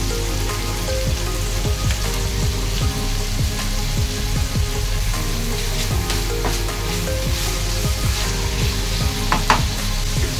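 Chicken mince fries in a pan with carrot, beans, capsicum, onion and tomato, giving a steady loud sizzle with scattered crackles and pops throughout.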